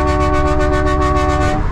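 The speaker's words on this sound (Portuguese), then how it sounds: "eu vou ter que meter a mão na buzina" Car horn honking in Brazilian street traffic, a loud sustained blare held for well over a second, pulsing slightly before cutting off, with no talking.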